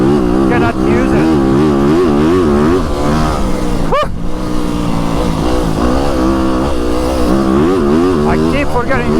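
Dirt bike ridden off-road, its engine loud and close, rising and falling as the throttle opens and closes, with one sharp rev spike midway and wind buffeting throughout.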